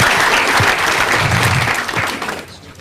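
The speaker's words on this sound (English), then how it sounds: "Please a little applause for Sky Ranch" Audience applause for Sky Ranch at the opening of a community park, a dense, steady round of clapping that stays loud before easing off near the end.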